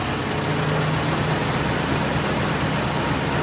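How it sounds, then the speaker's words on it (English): Antique 1913 Princess car engine running, a continuous loud, low rumbling idle that is steady and close up, with no talk. "we got this old 1913 Princess fired up since probably a Roosevelt was in office"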